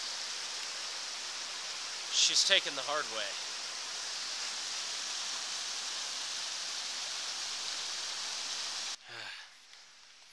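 Steady broadband rush of a creek in a Monongahela forest in February, flowing continuously under a brief burst of voices and ending with a short knock and rustle.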